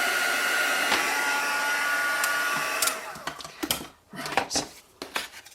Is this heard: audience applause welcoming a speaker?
no